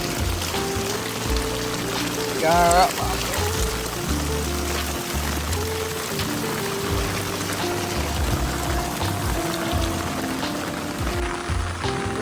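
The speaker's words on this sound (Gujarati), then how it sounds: "આજે વરસાદ બહુ હેલા" Steady rain hisses across the whole stretch, with a brief louder splash or pour early on and a single short spoken word.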